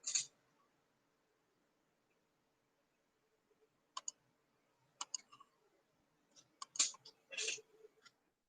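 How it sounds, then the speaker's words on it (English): Sparse clicks of typing on a computer keyboard, a few isolated taps followed by quicker little clusters of keystrokes, close and quiet in an otherwise silent room. "That's why I was typing."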